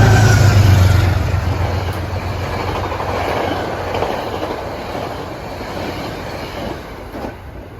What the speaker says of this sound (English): Here's 853 Super Express Beacon